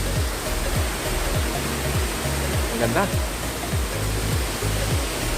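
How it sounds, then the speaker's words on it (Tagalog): Water cascading steadily at Nalalata Falls, a constant loud broadband rush filling the whole clip, with a brief spoken remark over it. "Ang sarap pakinggan ng ano? Lagaslas ng tubig."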